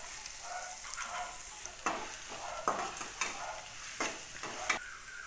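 Ginger, garlic and green chillies sizzle steadily in a pan, faint and close, with a spoon scraping and stirring through them in intermittent sharp strokes.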